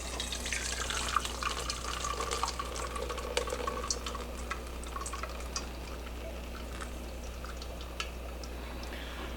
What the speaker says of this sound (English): we're going to strain this off into the colander, strainer, whatever you want to call it